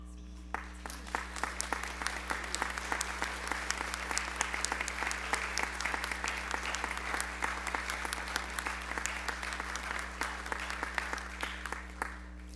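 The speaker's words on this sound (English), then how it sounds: "please stand now so that we can properly welcome you home with a round of applause" Sustained audience applause welcoming alumni at a Georgetown College Founders' Day ceremony, with sharp individual claps standing out in a steady wash, fairly quiet and spread across a large room, continuing throughout.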